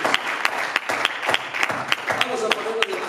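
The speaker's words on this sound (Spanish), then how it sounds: "Dar un aplauso fuerte al Señor Jesús" A church congregation claps loudly for Jesus during a sermon, a steady run of sharp, fairly regular claps from many hands, close and continuous, with some voices underneath.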